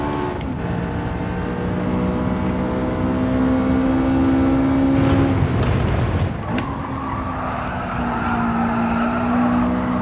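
A race car in Gran Turismo 7 slides its rear out under trail braking, engine note rising and falling with sustained tire squeal and skidding over about ten seconds, loud and close, with no talk.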